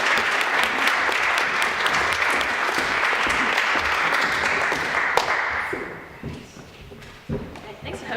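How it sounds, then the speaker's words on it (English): Audience at a Sunday Assembly event giving sustained applause, loud and dense clapping that fades out after about six seconds, with a few scattered claps and voices afterward. "Come on, give her a round of applause."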